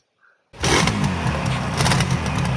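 A modified Yamaha RD 350 HT two-stroke motorcycle kick-started: a brief knock, then the engine fires and settles into a loud, close, steady idle.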